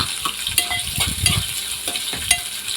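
Sesame seeds, sliced onions and green chillies fry in hot oil in a pan with constant soft sizzling and crackle, along with a few sharp metallic taps and scrapes from stirring.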